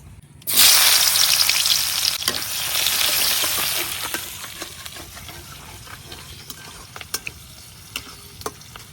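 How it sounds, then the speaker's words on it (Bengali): A sudden loud sizzle as onions hit hot oil left from frying fish, then steady frying that slowly quiets, with scattered pops and crackles. "এখন মাছ ভাজার তেলের মধ্যে দিয়ে দিতেছি পেঁয়াজ"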